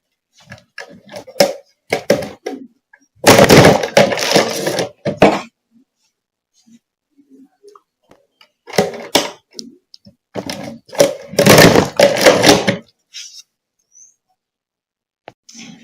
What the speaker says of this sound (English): Now we're just going to use the cinch to punch our pages.